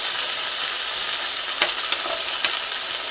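Chopped tomato, garlic, dried red chillies and cashews fry in hot oil for chicken tikka masala, a steady close sizzle broken by a few sharp crackles and pops.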